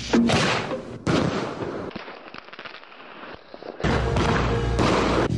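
Fireworks bursting at close range in loud, crackling volleys, with a quieter gap in the middle before a second dense burst of bangs and crackle.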